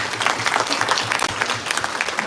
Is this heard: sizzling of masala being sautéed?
no